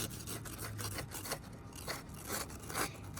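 A knife cuts through a grilled peanut butter and jelly sandwich on a Blackstone griddle, giving quiet crunchy scraping strokes as the toasted bread gives way, soft and close with no talk.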